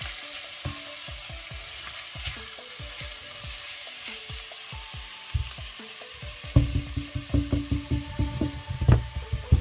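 Tomatoes fry in olive oil for ackee and saltfish, a soft continuous sizzle under repeated knocking and scraping strokes that grow louder and faster toward the end.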